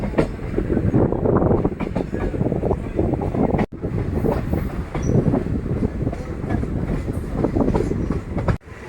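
The Madgaon–Mangaluru Express passes through the small Nandikoor railway station, a loud, close, continuous rumble with wheel clatter and faint squeals, with no talk over it.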